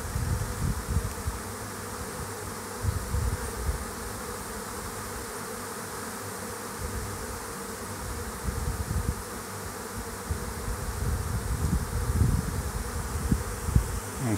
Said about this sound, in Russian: Такое мощное гудение, большой рой.